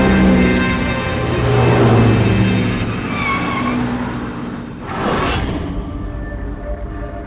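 A car is driven fast in a dramatized Savdhaan India crime episode, its engine roaring steadily with a rising surge, then a sharp whooshing pass near the end, loud and close with no talk.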